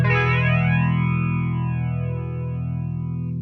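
A sustained, distorted guitar tone through an MXR EVH Flanger pedal, with a sweeping, whooshing flanger effect on its bass setting, steady and loud throughout.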